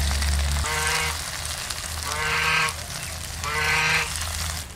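Small pond shrimp fritters sizzle in hot oil with a steady close frying hiss throughout. Three brief honk-like tones rise over the sizzle at regular intervals.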